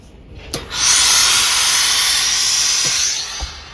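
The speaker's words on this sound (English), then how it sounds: "you want to just steam and shape, and you can put the iron down on this" A steam iron releases a long, steady hiss of steam over a stitched shoulder pad resting on a tailor's pressing ham. The hiss rises after a few soft clicks, holds for about two seconds and then fades, close and fairly loud.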